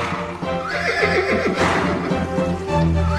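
A horse whinnies loudly and close, a rising, shaky neigh with hooves clip-clopping underneath during a tense crossing through water, with no talk.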